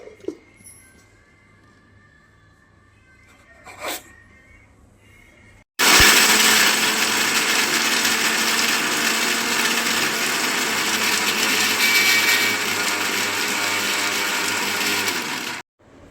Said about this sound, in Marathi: मी आता मिक्सरमध्ये शेंगदाणे आणि मिरची बारीक करून घेणार आहे